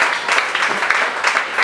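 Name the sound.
congregation applauding after a sermon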